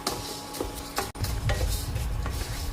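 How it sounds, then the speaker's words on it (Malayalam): Njavara rice dry-roasts in a pan over a low to medium flame, with a spoon stirring and scraping against the metal in irregular strokes and a soft crackle beneath, close and fairly loud, with no talking. "ഇതും ലോ ടു മീഡിയം ഫ്ലെയിമിൽ വെച്ച് വേണം വറുത്തെടുക്കാൻ"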